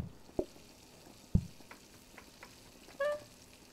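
Food fries on a hob in the cooking game PlateUp!, a steady faint sizzle under scattered clicks and knocks, ending with a short brighter tone.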